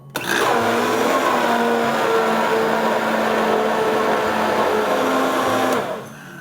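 A countertop blender runs on a low setting, blending a hormone-balancing smoothie bowl mixture, with a loud, steady whirring drone that holds for about five seconds before cutting off, no voices over it.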